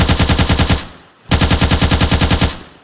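Rapid automatic gunfire strafes a ship in the destruction game Teardown, two loud sustained bursts of evenly spaced shots separated by a brief pause.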